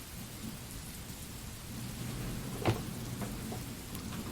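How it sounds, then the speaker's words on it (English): Steady rain falling outside, a continuous soft hiss with a low rumble, heard alone with a brief sharper knock near the end. "Can you all hear the rain okay?"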